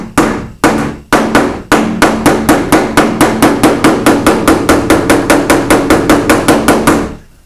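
A hammer straightening a dent in a car body panel, striking sheet metal in a fast, regular series of sharp, ringing metallic blows that run close and loud for several seconds before stopping.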